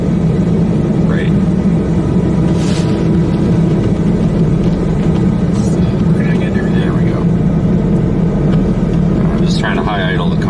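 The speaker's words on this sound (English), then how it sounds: "Trying to high idle the car here for a minute." Car engine high idling during a cold blizzard, a loud, steady low droning hum running throughout beneath someone talking close by, with occasional small clicks and knocks.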